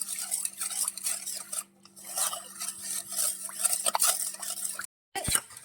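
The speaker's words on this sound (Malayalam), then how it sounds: "ഇത് നല്ലവണ്ണം കട്ടയില്ലാതെ നന്നായിട്ട് മിക്സ് ചെയ്തെടുക്കണം" A milk mixture for Tang pudding being stirred in a pan or bowl: rhythmic scraping and swishing of a spoon against the vessel, close and steady, with a brief pause and a light clink near the end.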